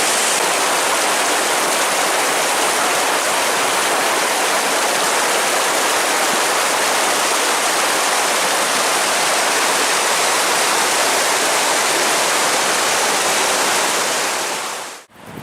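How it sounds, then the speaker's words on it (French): Mountain streams rushing along a hiking trail in the Vallonpierre area, a loud continuous broadband roar of flowing water held steadily close by, cutting off abruptly at the end. "là on a des cours d'eau un peu comme ça tout le long"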